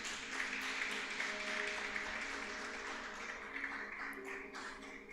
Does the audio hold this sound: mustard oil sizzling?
no